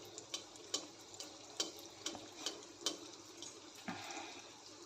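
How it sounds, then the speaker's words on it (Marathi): Anarsa, a rice-and-jaggery sweet, deep-frying as hot oil is splashed over it: a faint, steady bubbling sizzle broken by a regular series of sharp clicks and splashes from the ladle. "असं एकसारखे तेल उडवत तळून घ्यायचं आहे"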